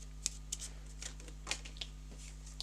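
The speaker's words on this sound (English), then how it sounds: "so we will just shuffle them like this and then give them a proper shuffle." A deck of board game cards for Realm of the Empress shuffled up close, with a handful of crisp, separate card flicks and snaps spaced across a couple of seconds over a steady low electrical hum.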